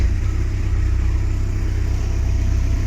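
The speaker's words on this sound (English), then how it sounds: "And she's in gear. We're in forward. Prop spinning." A restored boat's engine runs steady and smooth in forward gear with the prop spinning, a loud, even low rumble that stays constant throughout.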